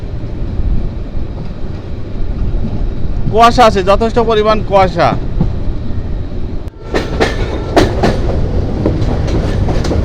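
The Saikat Express rolls along its Chattogram–Cox's Bazar run in fog, a loud, steady rumble and clatter of wheels with a tonal horn-like burst midway, while someone speaks over it.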